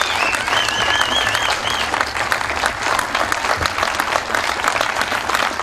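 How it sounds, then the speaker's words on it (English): A rally crowd at a Doctors for Patient Care event breaks into loud, sustained applause that runs the whole time, with a whistle rising over the clapping early on. "Let's give her a big round of applause."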